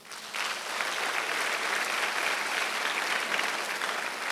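A church congregation at a Sunday worship service breaks into loud, sustained applause that starts abruptly and holds steady as a dense wash of clapping for several seconds.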